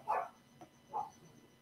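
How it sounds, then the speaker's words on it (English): A pug barks twice in the background of a studio, two short muffled barks spaced under a second apart, faint and distant. "Sorry if you can hear barking in the background, that would be my pug."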